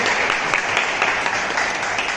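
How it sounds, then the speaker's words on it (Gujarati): An audience at a career guidance talk applauds, giving steady, dense clapping from many hands with no pauses throughout. "આપણે એમને ખરેખર તાળીઓથી વધાવીએ"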